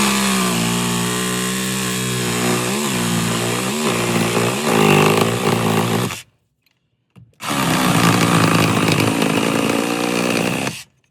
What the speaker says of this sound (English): So we're just going to cut this piece out real quick.